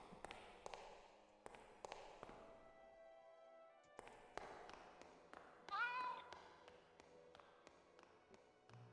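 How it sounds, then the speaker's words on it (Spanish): A cat meows in the Grim Fandango video game, a short rising call around the middle amid scattered tapping and light game sounds, fairly faint. "Está el gatito que se escucha."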